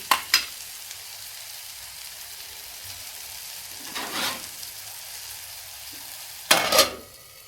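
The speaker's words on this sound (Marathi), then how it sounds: "तेलामध्ये भाजून घेते, नरम होजेपर्यंत." Tomatoes fry in oil in a pan with a soft, continuous sizzle, broken by a few louder bursts of stirring and spatula scraping near the start, middle and end.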